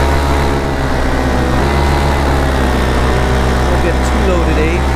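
A paramotor engine fitted with a new replacement propeller drones loudly and steadily, a constant close buzzing roar with no breaks, and someone speaks over it.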